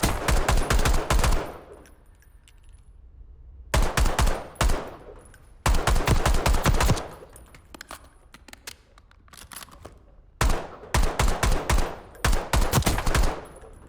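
Rapid automatic weapon fire from the Boiling Point blueprint in Black Ops 6 comes in four loud, close bursts, each a tight rattle of shots separated by short quiet gaps.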